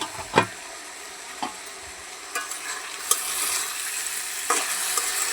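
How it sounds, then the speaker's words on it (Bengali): Vegetable bhaji for breakfast noodles frying in a pan, a soft continuous sizzle broken by several sharp spoon scrapes and knocks against the pan, close by. "এখানে আমি আগে ভাজিটা বসাই দিচ্ছি"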